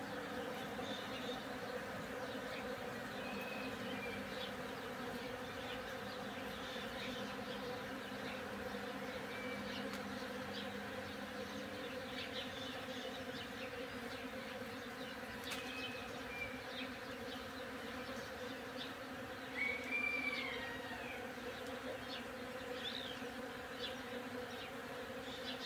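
A swarm of bees buzzes steadily and densely, close and continuous, with individual insects flying past now and then and no voices.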